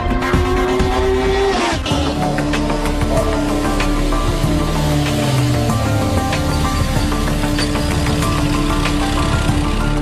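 An MV Agusta F3 675 motorcycle engine roars loudly and continuously as it is ridden, the pitch rising and falling through gear changes over a constant engine drone.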